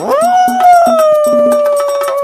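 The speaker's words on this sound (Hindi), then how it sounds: "ये देख आदतवश वो लोमड़ भी लोमड़ियों के सुर में सुर मिलाकर चिल्लाने लगा।" A single fox lets out a loud, drawn-out howl that rises quickly and then holds steady, with light rhythmic ticks underneath.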